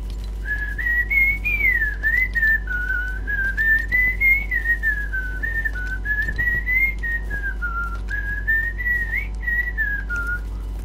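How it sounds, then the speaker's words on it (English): A person whistles a wandering melodic tune steadily and up close, the notes sliding and rising over a constant low hum, with no talk. "Sorry, my whistling gets really annoying."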